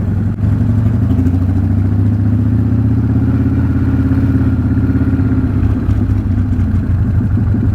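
A 1994 Harley-Davidson Dyna motorcycle engine rumbles loud and steady while riding, a deep throbbing drone with a shifting pitch as the bike travels, no voices over it.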